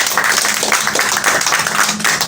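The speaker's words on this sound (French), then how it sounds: "Il faut applaudir." A church congregation applauds together, a dense, loud wash of clapping that pulses steadily for a couple of seconds.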